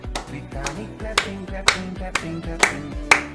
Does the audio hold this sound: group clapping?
yes